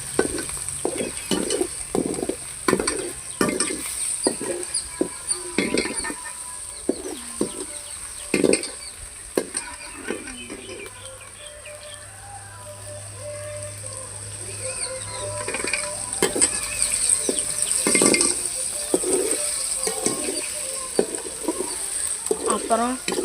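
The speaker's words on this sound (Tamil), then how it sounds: "இது கொஞ்சம் அப்படியே வதக்கி விடுவாங்க" Ground onion, garlic and ginger paste sizzles steadily in a pan, broken by a regular rhythm of spoon scrapes and stirring strokes, with a quieter stretch midway.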